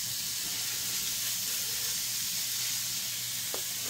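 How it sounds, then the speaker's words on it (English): Ground pork browning in a hot pan for shepherd's pie, a steady broadband sizzle and hiss running continuously throughout, close and even, with a faint low hum beneath and no talking. "So I'll just throw my pork into the pan. I'm going to start browning this off."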